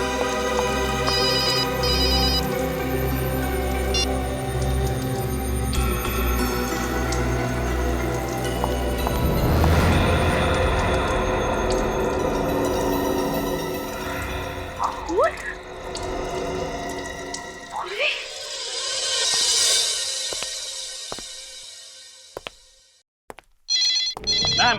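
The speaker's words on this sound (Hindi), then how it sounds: "पूर्वी का फोन?" Purvi's mobile phone ringing in a tune-like ringtone that plays steadily for a long stretch, loud and close, with running water and other background sounds mixed in near the end.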